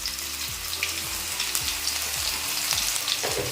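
Homemade ginger paste sizzles and spits in a hot pan, a steady close frying hiss with periodic scraping clinks as it is stirred, no voices over it.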